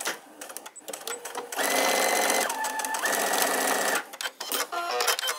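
A sewing machine stitches down a trouser waistband in close, loud bursts, with a long run of rapid needle hammering in the middle, shorter runs before and after, and a short pause.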